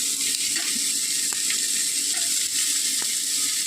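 Onions and tomatoes sauté in a hot pan for idli sambar, a steady close sizzle and crackle with a few faint stirring knocks, no talking.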